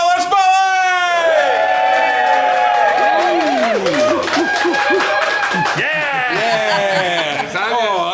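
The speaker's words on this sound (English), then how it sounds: "You know what to do. Clap us in." A live podcast audience at a whisky-tasting event claps, whoops and cheers to welcome the hosts, a lively burst of crowd noise mixed with laughter and shouts, and loud musical tones sweeping through.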